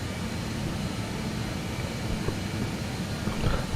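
A simulated airliner in Microsoft Flight Simulator 2020 rolls for takeoff from Batna, Algeria, its engines giving a steady, loud, continuous roar with no talking over it.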